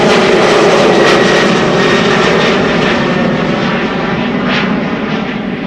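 Jet airliner taking off from the Polderbaan runway at Schiphol, a loud, steady, close engine roar that fills the whole stretch with broadband thunder and slowly eases toward the end, with no voices.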